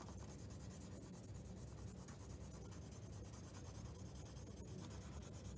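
Pencil graphite rubbed over paper for a block printmaking image transfer, a soft, faint, continuous scratchy shading with quick back-and-forth strokes, no talking.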